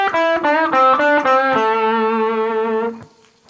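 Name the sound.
blues guitar lick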